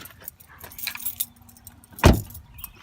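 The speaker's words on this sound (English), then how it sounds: "remove the keys, unlock the trunk" Car keys jangle as they come out of a Dodge Avenger's ignition, a quick metallic rattle followed by a sharp close clunk, with no talking.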